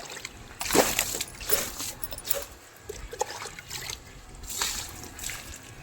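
Water trickles and splashes faintly in a garden as plants are watered at their base, in a few intermittent bursts of soft dribbling.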